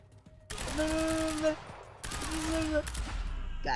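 Two loud bursts of gunfire from the action game Quantum Break, each a sustained clatter lasting about a second with ringing tones, separated by a short pause.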